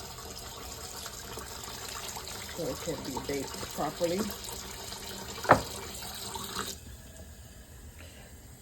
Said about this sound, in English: get some clean hot water, and put it in there